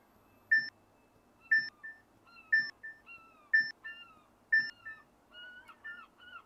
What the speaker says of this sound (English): it beeps five times and then it shuts the roof